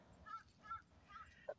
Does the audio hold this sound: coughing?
no